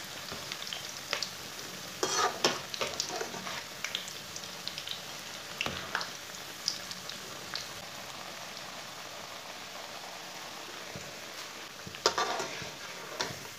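Onion pakoras fry in oil over a medium flame, a soft continuous crackle like light rain with occasional louder pops and spatters, steady and moderately quiet throughout.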